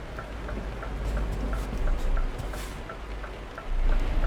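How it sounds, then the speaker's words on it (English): Steady rain in the Euro Truck Simulator 2 trucking game, a dense continuous patter on the truck over a deep low engine rumble, with a soft regular ticking like an indicator repeating throughout. "It's still bloody raining"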